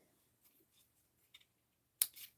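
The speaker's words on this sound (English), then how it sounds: "And I'll get my scissors." Scissors snip twine tails at a quiet craft table, a few faint handling clicks before one crisp, close cut near the end.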